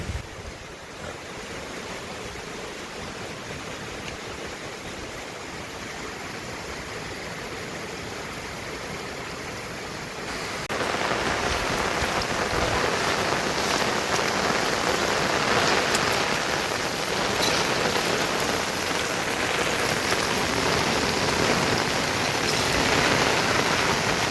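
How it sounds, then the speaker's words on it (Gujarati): Heavy rain pours steadily while floodwater spills and rushes into a yard, a dense broadband hiss that grows louder about halfway through and stays strong to the end, with no voices. "જોરદાર પાણી આવ્યું છે"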